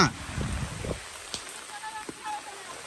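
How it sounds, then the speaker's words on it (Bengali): Rain falls during a storm at home, a steady close hiss that is loudest at the start, then settles into a softer patter with a few faint knocks. "আর ভালো লাগে না বৃষ্টি"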